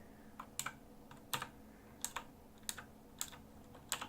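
Keys on a Razer BlackWidow Ultimate 2016 mechanical keyboard clack in paired strokes about every two-thirds of a second, each one crisp, close and loud against a quiet room.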